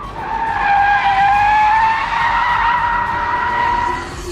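An Audi RS5 drifts in RS Torque rear mode, its tyres squealing loudly and continuously, with a sustained wavering screech that swells and holds close by throughout, the engine droning underneath.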